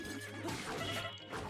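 A horse whinnies in the video game The Legend of Zelda: Breath of the Wild, a short neigh over low game ambience with a faint hoof clatter.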